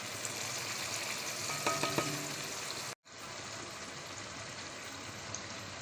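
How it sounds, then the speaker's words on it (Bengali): Chicken with skin frying hard with ginger and garlic paste, turmeric, chili powder and garam masala, giving a steady close sizzle with some stirring scrapes and a short cut partway through. "এবার আমি এগুলোকে ভালো করে কষিয়ে নেবো"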